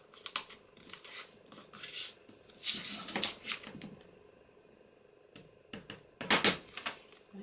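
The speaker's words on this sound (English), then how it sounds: "I'll just use my bone folder to flatten that up." A bone folder is pressed and rubbed along a fold in a vellum paper pocket folio, producing bursts of crisp scraping and crinkling strokes separated by quiet gaps, close up.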